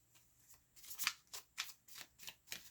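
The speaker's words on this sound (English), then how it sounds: "So I'm going to do a quick shuffle here and we're going to pull the cards together." Tarot cards shuffled by hand in a few quick riffling bursts, crisp papery flutters repeating about every half second, close and fairly quiet with no talking.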